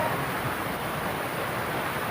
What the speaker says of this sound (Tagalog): Tingnan nyo po ang hampas ng hanging bagyo.